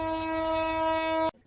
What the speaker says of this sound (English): the driver even gave us a honk of his horn